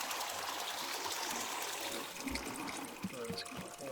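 Water pours steadily into a teapot in the video game Wanderstop, a continuous trickling stream that holds at moderate level across the clip amid light game sounds.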